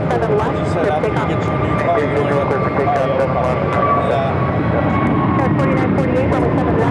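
Airliner taking off from runway 7 left at Phoenix airport, a steady broadband engine roar holding loud and constant throughout, with radio voices running over it.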